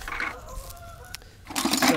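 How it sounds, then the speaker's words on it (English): Nasal honking calls from geese rise over background noise near a boat, one near the start and a louder, fuller burst toward the end, moderately close. "those geese were loud."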